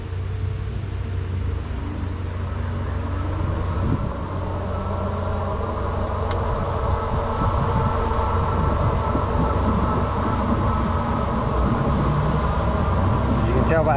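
Himiway or Rad electric bike climbing a hill on throttle alone, a steady low motor drone and road rumble with wind noise running loud and continuous throughout, a voice talking over it.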